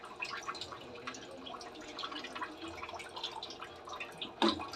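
Water is poured into a Manchurian gravy mixture, giving a soft, close trickle and light bubbling that ends in a brief louder splash.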